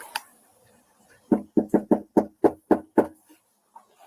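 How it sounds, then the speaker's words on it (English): Loud knocking on the door of a small house at night, a quick run of eight sharp, evenly spaced raps following a faint tap, then quiet. "I think that knocks loud enough for that small house."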